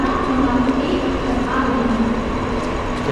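A Mumbai suburban train bound for Chhatrapati Shivaji Maharaj Terminus rumbles loudly and steadily with a low droning hum and rattling of the coaches, close by, with faint crowd murmur mixed in.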